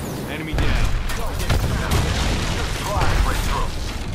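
Grenade explosion in the Apex Legends video game, heavy booming blasts mixed with rapid gunfire in a busy battle, with voice callouts over the top.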